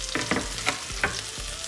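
Chicken mughlai masala with green chilies, ginger garlic paste and coriander sautés in a pan, a constant sizzle punctuated by four or five quick scraping strokes of a spoon.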